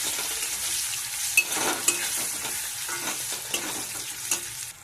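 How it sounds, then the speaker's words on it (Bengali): Bitter gourd pieces frying in hot oil give a steady close sizzle, with a few light clinks of a utensil against the pan. "উচ্ছেগুলো লাল লাল ভেজে তুলে নিচ্ছি"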